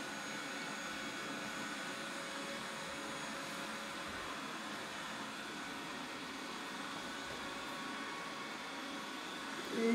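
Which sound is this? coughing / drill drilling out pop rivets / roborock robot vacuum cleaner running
roborock robot vacuum cleaner running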